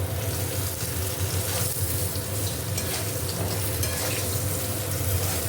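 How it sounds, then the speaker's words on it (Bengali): Oil sizzles and crackles steadily as potato, pointed gourd and vegetable stalks fry in a pan, with occasional stirring scrapes, close and continuous. "আলু, পটল ও ডাঁটাটাও হালকা একটু ভেজে নেব"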